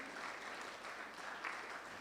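An audience at a youth conference in Kaduna State applauds in a steady, dense wash of clapping that stays even for a couple of seconds and sounds fairly soft and distant.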